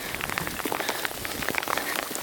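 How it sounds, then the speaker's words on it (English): Small hail of large frozen raindrops pattering steadily on a surface outdoors in the mountains near Molas Pass on the Colorado Trail, a dense, continuous scatter of close, crisp ticks with no voices. "technically this is hail, but it's just large frozen raindrops."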